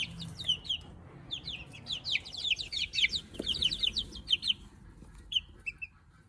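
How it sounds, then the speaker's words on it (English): Chickens, young birds in a pen, cluck and chirp in a steady run of short calls close to the listener, continuing for several seconds. "you guys want to say hi to chickies?"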